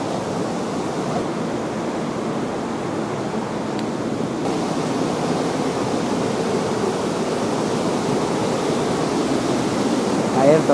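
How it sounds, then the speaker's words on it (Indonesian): Tansi 4 waterfall in Solok Selatan roars as a steady, broad rush of falling water, continuous and fairly loud throughout with no other sounds standing out. "Air terjun Tansi 4 Solo Selatan."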